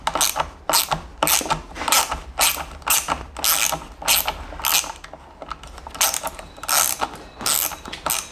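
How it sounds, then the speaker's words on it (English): A 10mm socket ratchet undoes a motorcycle brake or clutch lever bolt, giving a loud, close run of rapid ratchet clicks in regular back-and-forth strokes, roughly a dozen bursts, with no speech. "The 10mm socket, and also a 8mm ring spanner underneath. And you just undo this."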